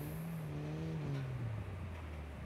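A car in the mobile shooter Call of Duty Mobile, its engine tone sliding steadily lower as the vehicle moves off, fairly quiet and heard alone.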